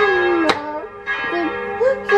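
A bell rings in a home setting, clear tonal strikes sounding twice with a lingering ring, close and fairly loud.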